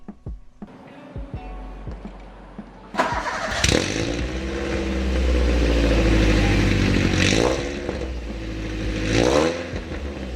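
A lowered 2005 Toyota Avanza G, heard from inside the cabin. After a few quiet knocks, the starter cranks and the engine catches, then settles into a steady idle with a slight rise in revs near the end.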